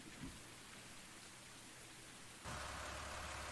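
Steady rain falls in the Farming Simulator 19 game, a continuous hiss that grows noticeably louder partway through, with no voices.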